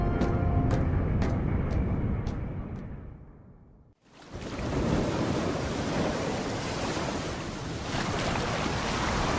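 A boat rides over ocean waves in the video game Medal of Honor Pacific Assault, with loud, continuous surf and wind rushing. A few faint ticks come early, and the noise briefly drops out midway before resuming steadily.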